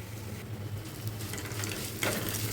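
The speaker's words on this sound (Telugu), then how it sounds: "మంచిగా కలుపుకొని ఫ్రై చేసుకోవాలి." Ground fresh coconut being stirred and fried in a pan, a soft steady sizzle with intermittent scraping of a spatula, close and moderately quiet.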